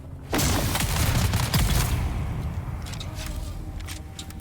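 A loud burst of rapid gunfire in the video game Dune: Awakening breaks out after a brief quiet, rattling for over a second before trailing into fainter scattered shots and echoes.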